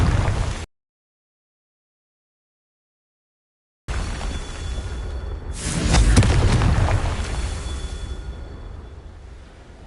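A Confringo fire spell from Hogwarts Legacy goes off after a stretch of silence, a loud booming blast that swells and then rolls off into a long, noisy fading rumble.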